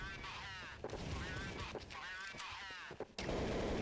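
Gunfire from a Counter-Strike match on the Tuscan map, a burst of several quick shots mixed under excited esports commentary, with a loud, dense stretch of game noise near the end.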